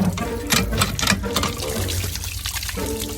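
Water pours from a pump into a container, a close splashing gush with uneven surges and trickles, continuous and fairly loud.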